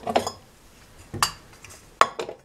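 Metal pot handled in a kitchen, several sharp clanks and clinks at irregular intervals, close and fairly clear.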